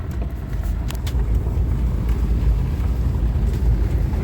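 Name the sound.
Subaru Forester driving on road during test drive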